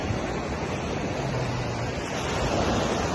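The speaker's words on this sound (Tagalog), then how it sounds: "Sarap ng alon." Ocean waves wash steadily onto a fine-sand beach beside a camping dome tent, a continuous full roar of surf with a little wind, no voices.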